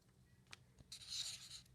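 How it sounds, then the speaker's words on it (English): A pencil writes a number on paper, giving a short scratchy rasp that builds to a brief, fairly faint scribble after a couple of light taps. "Pick up a pencil and I write number"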